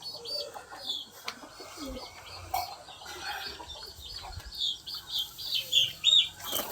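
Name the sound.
pigeons flapping wings while being caught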